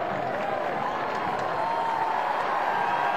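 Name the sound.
stadium crowd cheering at LSU college football game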